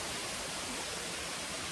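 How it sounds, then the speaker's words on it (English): Running water of a waterfall in a glen near Bridge of Weir, a steady even hiss-like rush with no other sounds, constant and unbroken throughout. "Listen to that running water."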